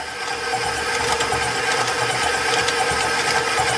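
An electric hand mixer whirs steadily through zucchini bread batter with extract just added, a loud continuous motor drone that stays close and even for a few seconds with no voices.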